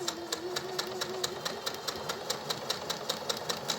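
A sewing machine stitches a straight seam along a ribbon, its needle ticking in a fast, even rhythm at moderate distance, running steadily for the whole stretch.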